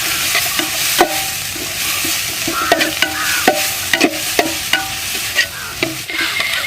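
Tomatoes being stirred into a Kuttanadan-style chicken curry in a pan, with repeated scraping strokes of a spoon against the metal over a soft background sizzle, close and fairly loud.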